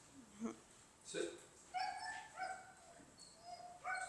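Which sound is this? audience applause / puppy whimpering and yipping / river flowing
puppy whimpering and yipping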